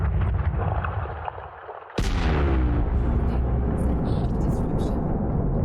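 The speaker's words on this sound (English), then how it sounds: "Detonate now. Detonation in 10 seconds." A mining charge detonates on an asteroid in Elite Dangerous: a sudden loud boom with a broadband crack, then a long rumbling, crackling decay, with the low hum of the ship's cockpit underneath throughout.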